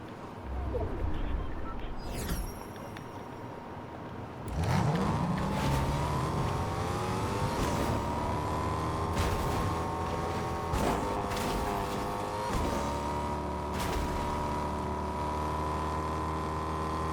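Fortnite car engine droning loud and steady, rising into revs with shifting harmonic whines as it drives on, with occasional bumps and players talking over it.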